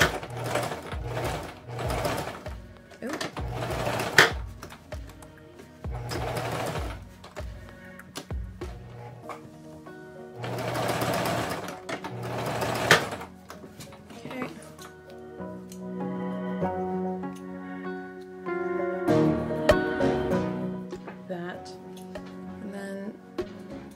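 A sewing machine stitches doll-sized jeans fabric in several bursts of rapid mechanical chatter that start and stop, close and fairly loud, with a person talking between the runs.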